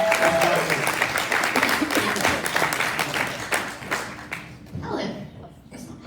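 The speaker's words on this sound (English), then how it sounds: "Give her a round of applause" An audience applauds a newly introduced junior partner with a brisk, full round of clapping that thins and fades away after about four seconds, leaving a few scattered claps and a voice.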